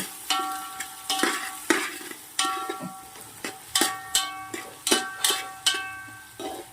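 Thinly sliced onion and capsicum sauté in a pan, with sharp scraping stirs recurring every half second or so over a soft sizzle, close and fairly loud.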